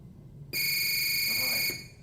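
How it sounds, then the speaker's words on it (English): A steady electronic workout timer buzzer sounds loud and continuous for just over a second, with faint background noise before and after. "On the buzzer, you'll hear the buzzer"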